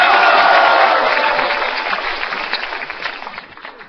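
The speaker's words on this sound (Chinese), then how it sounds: "掌声不够热烈。" A studio audience at a Chinese television variety comedy show claps loudly in a dense burst that gradually thins and fades over a few seconds, with light crowd murmur beneath.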